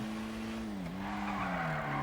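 Car tires squealing in a sustained skid during oversteer on an open-differential car, a loud steady screech whose pitch dips briefly then holds.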